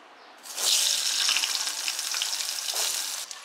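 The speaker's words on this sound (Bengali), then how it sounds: "আগে থেকে চিকন করে কেটে রাখা আলুটাকে লবণ আর হলুদ দিয়ে একটু লাল করে ভেজে নিতে হবে" Thinly cut potatoes hit hot oil with salt and turmeric, a loud, steady sizzle rising abruptly and holding for a few seconds with a brief surge near the end, no voices over it.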